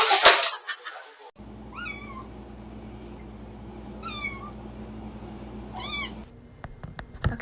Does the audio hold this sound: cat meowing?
yes